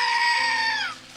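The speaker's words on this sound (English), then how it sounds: "It's a screaming goat for the goat." A squeezed screaming goat toy lets out one loud, close, sustained bleating scream that wavers and falls off at the end, heard alone.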